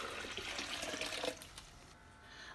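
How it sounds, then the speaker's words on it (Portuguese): Half a litre of very hot water pours into a kitchen blender for homemade soap, a bright splashing stream for about a second before it stops, leaving a quieter trickle. "aqui vai pôr no liquidificador meio litro de água bem quente"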